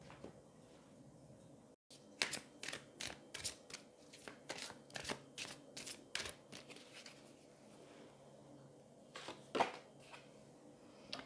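A deck of angel oracle cards is shuffled in a long run of rapid, crisp riffles and flicks, close and fairly quiet, with no speech.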